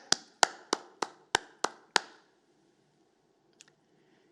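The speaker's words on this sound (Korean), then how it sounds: "한번 박수로 힘차게 올려드리겠습니다" Clapping during a Korean church Sunday worship service marking the congregation's 27th anniversary: seven sharp, evenly spaced claps in quick rhythm, then near silence with a faint click.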